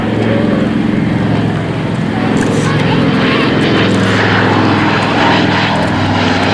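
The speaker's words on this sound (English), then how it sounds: "That aircraft was actually used during the airlift." A propeller-driven transport aircraft of the airlift era drones loudly and steadily overhead, its engine roar filling the whole stretch with a constant low hum.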